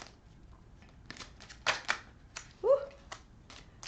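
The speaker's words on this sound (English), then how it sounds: "Y'all see me shuffling these cards." A deck of playing cards is shuffled in a few quick riffling bursts, with a short exclamation from a voice partway through.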